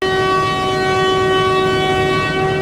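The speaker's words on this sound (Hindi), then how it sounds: "तो ट्रेन का डिपार्टिंग विसल हो गया" A train's departure whistle sounds at a station on the Rawalpindi to Havelian line in Pakistan, a loud, steady, sustained tonal blast held throughout without a break, heard close with no talking.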